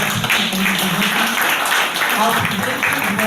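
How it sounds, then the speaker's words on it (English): A conference audience breaks into a sustained round of applause at the closing session, with dense, even clapping that holds steady from start to finish. "Round of applause."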